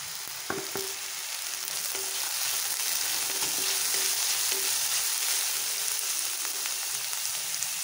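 Tomatoes and green chili dropped into onions already frying in oil with crackled cumin, giving a continuous soft sizzle and crackle after a couple of brief clattering impacts early on.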